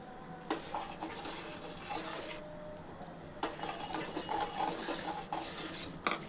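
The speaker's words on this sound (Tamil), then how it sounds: "இந்த பவுல் சர்க்கரை 3/4 அளவு நான் போட்டு நல்லா இதில் போட்டு" Spoon clinking and scraping in a bowl as sugar is stirred into dissolved agar agar, a few sharp taps among softer swirling strokes, close and fairly quiet.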